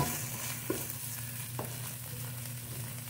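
Cebu chicharon karkar sautéing in a pan gives a soft, continuous sizzle with a few sharp stirring clicks, heard close and fairly quiet with no voices.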